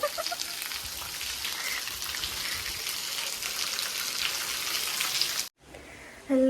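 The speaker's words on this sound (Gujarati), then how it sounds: "હજી વરસાદ ચાલુ જ છે અહીંયા તો." Steady rain falls at a village in Gujarat, a dense, even hiss of drops on surfaces that holds for about five seconds, then cuts out briefly before a louder burst returns.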